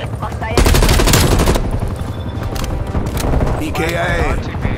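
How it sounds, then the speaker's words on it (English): Loud, close automatic gunfire in Call of Duty: Black Ops Cold War, a sustained burst of rapid shots followed by further firing and battlefield noise, with voices speaking over the combat. "We're taking effective fire."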